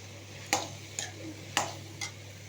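Potato and capsicum curry with turmeric and salt sautéed in a pan: four separate spoon scrapes and taps against the pan at an even rhythm, fairly close, with a faint sizzle and steady hum beneath, no voices.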